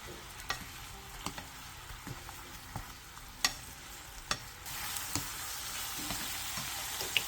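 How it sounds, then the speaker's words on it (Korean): Cooled tofu is stirred into a seasoning sauce simmering in a pan. A soft bubbling sizzle runs underneath regular spoon taps and scrapes about once a second, and the hiss grows louder toward the end, with no talking. "양념이 끓어오르면 한 김 식혀놨던 두부를 넣고 골고루 뒤적여주세요"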